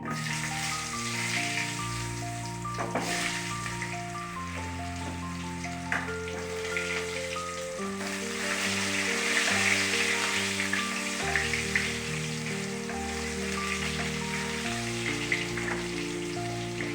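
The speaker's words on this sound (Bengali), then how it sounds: "এবার একটু আলুটাকে ভেজে নিই" Potatoes fry in oil in a wok over a tempering of bay leaf and dried chilli, giving a continuous soft sizzle that sits beneath prominent background music.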